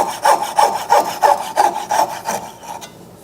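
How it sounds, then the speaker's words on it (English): A coping saw cuts back and forth through wood to clear the waste between dovetails, giving about eight steady, rhythmic rasping strokes close up before it stops near the end. "Just bring the coping saw in, run it back and forth, keep it moving, and slowly turn it."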